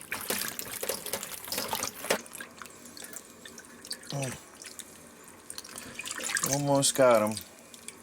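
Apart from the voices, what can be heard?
washing honey mushroom caps under running tap water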